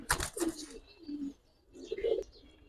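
Black Giribaz pigeons, five cocks and five hens of one pattern, cooing close by in three soft, throaty bursts separated by short pauses, with faint chirps and no voices.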